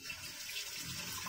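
Water rushes steadily into a Geberit concealed flush cistern just after its supply valve is opened, a close, continuous hissing flow with no talk.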